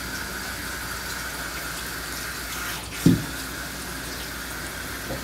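Water sprays steadily during a dog's bath at a grooming session, a constant hissing flow from close by with one brief louder splash or knock midway.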